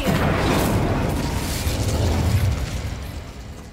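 Incendio, a fire spell, is cast in the Hogwarts Legacy video game, producing a loud, rushing burst of flame and booming impact that rumbles and slowly fades, with no talking.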